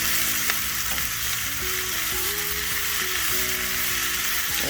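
Onion chutney ingredients sauté in a pan with a steady close sizzle and crackle, while a spoon stirs with faint scraping through the sizzle; nobody speaks.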